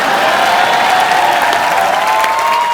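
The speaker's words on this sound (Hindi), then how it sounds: "तो आप सबकी जोरदार तालियों के बीच स्वागत करना चाहूंगा फिल्म बेगम जान की टीम" A studio audience at a TV comedy show applauds and cheers loudly to welcome a film team, with steady sustained tones running beneath the crowd noise.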